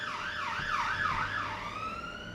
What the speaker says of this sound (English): let's wait for these sirens to go